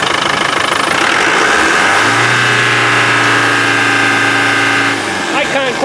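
Land Rover 200tdi diesel engine idles, then revs up and holds a steady raised drone for a few seconds before dropping back, loud and close, with someone talking over it.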